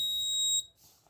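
A vehicle anti-theft alarm buzzer sounds one sharp, steady high-pitched electronic tone for just over half a second and then cuts off, leaving near silence.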